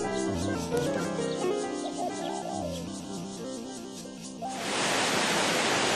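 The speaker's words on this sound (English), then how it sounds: "Before arriving at the waterfall area, you'll hear the crash of water." Crashing water from Neidong waterfall in Neidong National Forest Recreation Area: after a stretch of music, a loud, steady broadband rushing roar takes over for the final second and a half.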